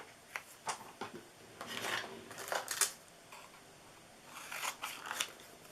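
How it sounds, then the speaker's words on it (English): Scissors snip by hand through cardstock for a pop-up card in a quiet room, making a series of close, crisp cuts in irregular bursts. "I'm going to actually hand cut this out"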